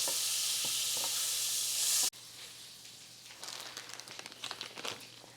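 Margarine melts in an already hot pan, starting with a loud broad hiss that cuts off abruptly, then lighter crackling sizzle and stirring scrapes building toward the end.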